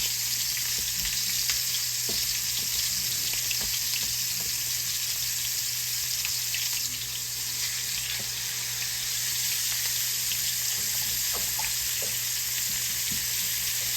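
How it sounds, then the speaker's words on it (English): Pork chops sear in hot oil in a skillet, a steady close sizzle holding level the whole time with faint crackles and small utensil taps. "Put it right in the oil over here. You want to get a nice little sear on it."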